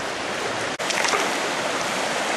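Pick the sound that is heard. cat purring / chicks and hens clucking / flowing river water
flowing river water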